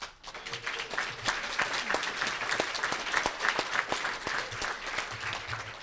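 Applause fills a room at an annual dinner, a dense, steady clapping from a crowd that carries on evenly for several seconds at moderate loudness, with no voices over it.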